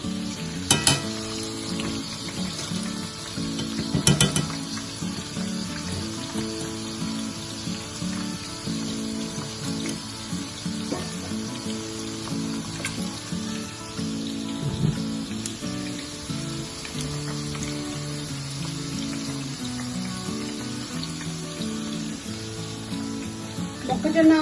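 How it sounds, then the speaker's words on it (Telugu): Corn kernels fry in hot oil until brown, giving a steady dense sizzle with spatter throughout and a few sharper pops and clatters near the start and end, no voices. "ఒక 10 minutes అలా బ్రౌన్ కలర్ వచ్చేంత వరకు వేగిస్తాం ఇది బాగా"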